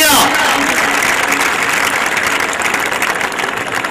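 Sustained crowd applause fills a school prize distribution ceremony and farewell party in 2010, a dense wash of clapping from a large audience that starts at full strength and eases slightly toward the end.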